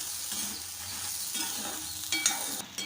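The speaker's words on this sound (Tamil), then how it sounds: "இந்த மாதிரி மிளகா உப்பு ரெண்டையுமே நம்ம சேர்த்து வறுக்கும் போது மிளகா வந்து நெடி இடிக்காமல் இருக்கும்" Dried red chillies and salt roast together in a pan, with a dry, continuous sizzle and scraping stirring strokes close by, growing busier toward the end.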